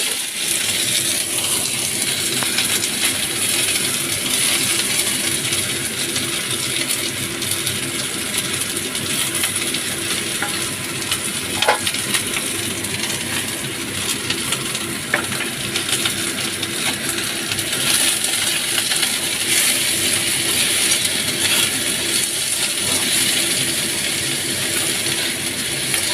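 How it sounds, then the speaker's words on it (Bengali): Chopped onion fries in oil in a wok, giving a steady, dense crackling sizzle that runs without a break, close and fairly loud, with a few sharper clicks and no talking. "কড়াইয়ে তেল দিয়ে দিয়েছি, এবার আমি পুরটা করতে নিয়েছি। প্রথমে পেঁয়াজ কাটাটা ছেড়ে দেবো।"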